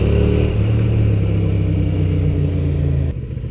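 A car engine revs steadily while driving on city roads, a loud rumbling drone that holds its pitch and then drops abruptly after about three seconds.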